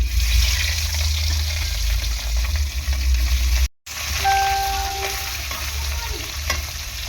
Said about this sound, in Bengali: আর এখন এই মাছগুলোও ভেজে নেব।